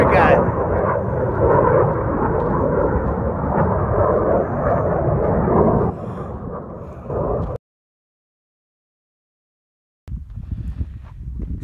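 Private F-18 fighter jet roaring past low over the Eureka Sand Dunes in Death Valley, a loud sustained broadband rush that drops off abruptly, then silence before wind noise returns.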